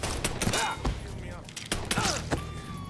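Gunfire in the Mafia 3 video game on PS4, sharp shots scattered irregularly through a busy game mix with voices talking over it.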